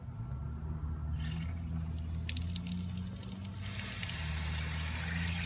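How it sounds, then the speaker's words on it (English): Water from a hose pours into an inflatable Wubble ball, a steady rushing fill with a low hum underneath and a brightening hiss partway through. "You put the hose into it with the valve pushing down."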